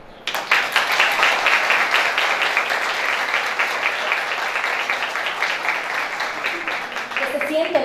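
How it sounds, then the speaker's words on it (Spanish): Audience applause at a Women's Day recognition event for a provincial governor, broad sustained clapping from a crowd starting abruptly and holding steady, gradually easing near the end, with a voice rising over it at the finish. "El aplauso para la licenciada Lisette Nicasio, gobernadora por la provincia Hermanas Mirabal."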